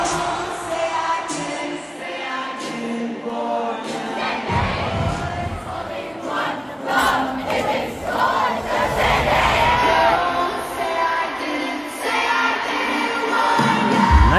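A huge stadium crowd at a concert in Sydney roars and chants "Sydney!" together in loud surging waves. The shouting swells and stays dense throughout, with no single voice standing out.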